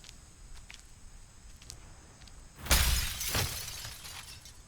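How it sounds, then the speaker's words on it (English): A pane of breakaway sugar glass shatters in a window after quiet room tone, a sudden bright crash followed by a second burst of falling, tinkling fragments. "the glass was actually breakaway sugar glass, made by Bob Burns and Mary Church"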